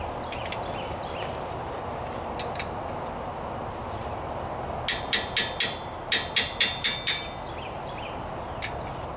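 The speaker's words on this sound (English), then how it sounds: "by using the wrench and the hammer, I'm acting like an impact" Sharp metallic hammer blows on a wrench against tight front brake caliper bolts of a Traverse, Acadia or Enclave: a quick burst of about nine ringing strikes in two rapid clusters, near and loud, plus a few isolated taps.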